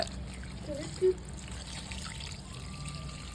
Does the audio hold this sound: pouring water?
yes